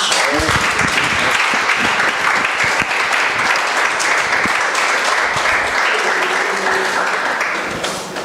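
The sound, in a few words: audience applause for the speaker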